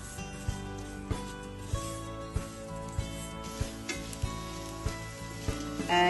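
Masala and chili powder frying in oil for a Kerala-style fish curry, a close, lively sizzle broken by regular spoon scrapes against the pan about every half second.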